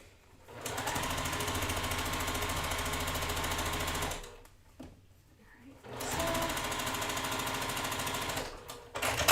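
A sewing machine stitches quilt seams in rapid continuous bursts, stopping briefly once and starting again, loud and close, with a voice talking over it.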